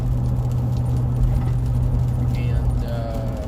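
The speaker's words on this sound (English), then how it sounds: "Sorry about the noise in the vehicle." Road noise fills the inside of a moving car as rain sets in: a steady low engine drone and tyre rumble, with small rattles and patters over it. The whole stretch keeps an even level.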